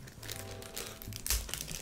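A small plastic bag of cables from a Rode Wireless Go II box crinkles and rustles continuously up close, with a louder crackle about two-thirds through.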